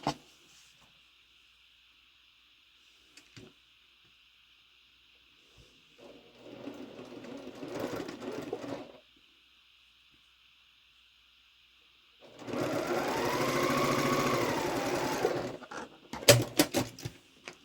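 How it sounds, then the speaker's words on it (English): A domestic sewing machine stitches quilt pieces corner to corner, heard as two separate runs of steady mechanical whirring, each lasting a few seconds, with quiet pauses in between and a few sharp handling clicks near the end. "we're going to sew corner to corner"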